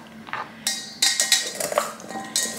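Cut vegetables tossed together in a bowl, with a handful of bright clattering and scraping hits at an irregular rhythm, close and moderately loud with no talking.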